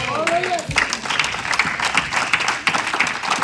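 A church congregation applauding, a dense, steady wash of clapping filling the room, with a voice briefly heard at the start.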